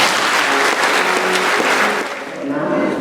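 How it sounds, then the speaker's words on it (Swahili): A church congregation at a Pentecost Sunday Mass applauds the choir with loud, dense, sustained clapping that dips slightly near the end. "Makofi Bwana."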